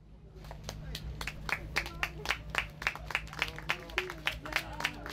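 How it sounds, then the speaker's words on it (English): Volunteers applauding Pope Francis on World Day of the Poor, a crowd clapping with sharp, fairly regular claps over a low steady hum, moderately close. "The volunteers responded with this applause"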